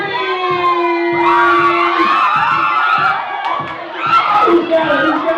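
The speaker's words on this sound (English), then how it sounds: "Big round of applause" Wedding guests cheer, whoop and shout after a group photo at a beach resort in Brigantine, New Jersey, with a lively crowd roar and scattered applause building throughout.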